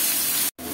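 Drumstick leaf paste hits a hot pan with onions and green chilies, letting out a loud, steady hiss of sizzling that breaks off for an instant, then returns at full strength.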